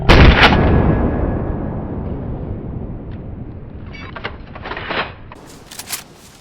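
A single loud gunshot in the video game DayZ cracks at the start and rolls into a long, fading echo, followed by a few faint clicks and thuds.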